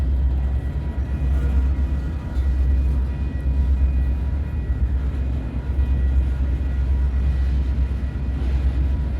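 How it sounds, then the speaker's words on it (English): An empty coal train rolls along the railroad in a steady low rumble, loud and continuous with gentle swells, with no talking. "The empty coal drag on my left is my favorite."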